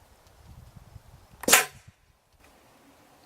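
A single sharp pneumatic whoosh-pop bursts out once from an unloaded T-shirt cannon charged to 90 psi, loud and close, after quiet, then fades quickly into silence.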